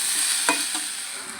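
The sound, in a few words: stirring and frying spice paste with chilli powder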